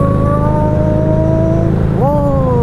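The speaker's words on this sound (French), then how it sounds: "Oh, des motos." Motorcycle engines droning close by while riding, steady tones sliding down in pitch, then a sharp rise as one revs past near the end; loud and continuous, with no talk.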